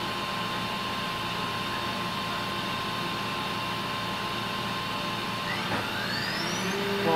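The spindle of a Doosan Puma MX CNC lathe runs at high speed, a loud, steady mechanical whine and hum with a brief rising tone sweeping upward near the end.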